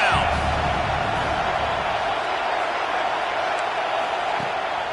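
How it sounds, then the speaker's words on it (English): A packed stadium crowd roars steadily in a college football video game, a broad sustained wall of cheering and noise that holds loud throughout. "Decibels rising as the crowd gets behind this defense on third down."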